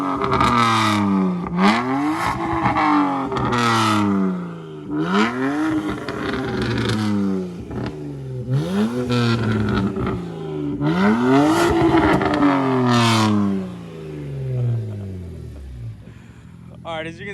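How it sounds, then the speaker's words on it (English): A BMW 135i with an M54 engine and single exhaust revs in repeated rising and falling pulls, close and loud, with voices over it. "now he's gonna go ahead and show us what the M54 can do on a 135"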